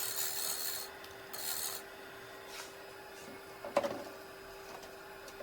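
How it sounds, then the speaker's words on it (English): A pointy carbide tool scrapes and trims a clay garlic keeper in soft rasping passes, a few louder bursts early on, then quieter scraping with an occasional sharp tick, close by and with no talking. "Using the pointy carbide tool to define that better."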